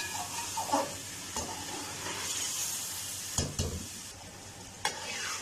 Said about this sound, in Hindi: ग्रेवी के साथ हम इसे 10 से 15 मिनट के लिए पकाएंगे